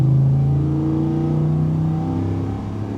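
A new 2025 Ford F-150 Lariat pickup engine revs up with a deep, loud rumble, pitch rising then easing off as it settles, no talking.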